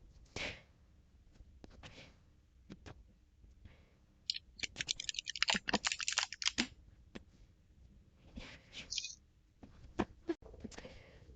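Tarot card shuffling in split portions: a few soft flicks, then a longer riffle of rapid papery clicks, followed by more scattered taps and a short second riffle, close up.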